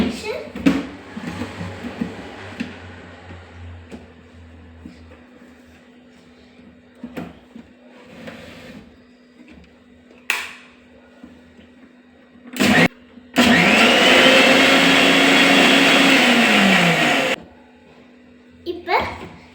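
A kitchen mixer grinder whirs loudly for about four seconds while blending mint lemon juice in its closed jar, preceded by quiet talk and handling noises, with a voice and brief clatter around it.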